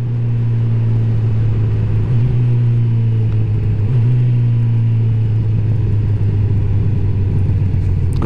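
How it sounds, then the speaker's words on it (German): Honda CB1000R motorcycle, 2018 model, ridden on a test ride, its exhaust giving a loud, continuous low engine drone with slight pitch wavers as the throttle shifts, heard close and without talk. "nicht schlecht, der Auspuff."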